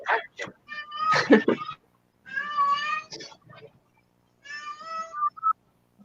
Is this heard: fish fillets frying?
no